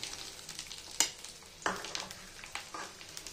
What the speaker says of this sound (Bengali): পেঁয়াজটাকে আমি একটু ভালো করে লাল লাল মতন ভেজে নেব